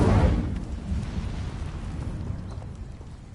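Incendio fire spell cast in Hogwarts Legacy: a loud whooshing roar of flame that bursts at once and then fades into a steady crackling rumble, with no talk over it.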